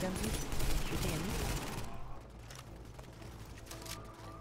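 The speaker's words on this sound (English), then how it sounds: "Who is shooting? I can see a bullet went through" Gunfire in the video game Tom Clancy's The Division, a dense burst of shots in the first two seconds that gives way to quieter, scattered distant shots under background game ambience.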